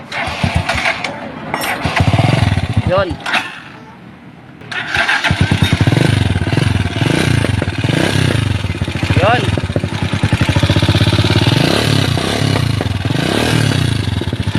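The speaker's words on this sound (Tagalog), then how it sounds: "Ang issue nito, maingay makina. Pakinggan muna natin bago ayusin." A noisy Rusi 175 motorcycle engine runs up close with loud clattering and rough revving, briefly dropping before picking up again, while someone speaks at the start.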